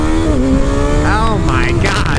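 A Kawasaki Ninja ZX-6R motorcycle engine accelerates hard in first gear, its whine climbing steadily in pitch and dipping briefly as a rider talks over it.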